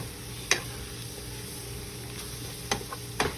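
A spoon scrapes and stirs a flour slurry into crawfish étouffée in a pan, with a few sharp clinks against the pan over a low steady sizzle, close and quiet.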